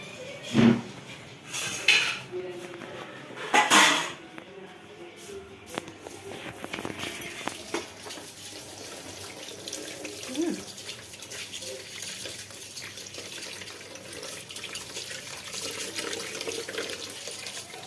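Rolled gold bangles that had turned black are rinsed under a running tap at a kitchen sink, with a steady stream of water and a few louder splashes and clinks near the start, then softer continuous flow.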